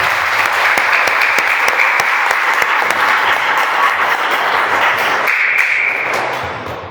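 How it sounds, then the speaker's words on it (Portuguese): A church congregation bursts into loud, dense applause that fills the space evenly and holds steady for several seconds before tapering off at the end. "vamos acolher a todos com a grande salva de palmas"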